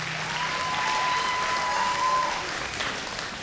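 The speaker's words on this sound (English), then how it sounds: "round of applause please as she heads backstage for Francisca Tulunganarang" A live studio audience at a televised singing contest applauds a departing contestant, dense continuous clapping with a thin steady tone running beneath it, loud and even throughout.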